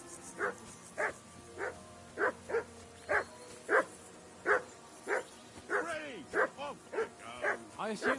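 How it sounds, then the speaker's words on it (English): Dog barking repeatedly in the medieval role-playing game Kingdom Come: Deliverance, a steady series of sharp, fairly close barks about every half second to second, turning into quicker, yelping barks toward the end. "I assume you can hear that damn dog of yours barking."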